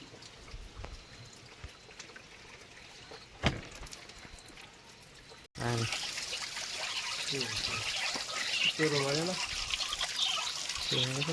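Water gushes from a hose pipe fed from above, starting abruptly after a quiet stretch and then running as a steady, loud splashing stream with a voice talking over it.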